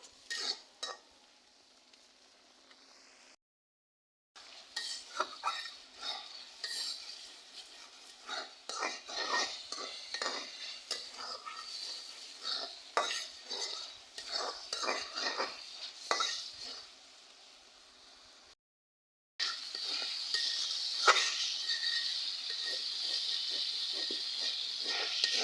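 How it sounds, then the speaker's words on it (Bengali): Spices with ginger paste are stir-fried in a pan for prawn and bottle gourd curry, giving a close, continuous sizzle with repeated scraping stirs of a utensil against the pan and brief pauses in between. "এখন ভালোভাবে আমি মশলা কষিয়ে নেব।"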